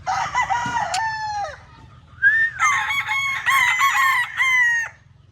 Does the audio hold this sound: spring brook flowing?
no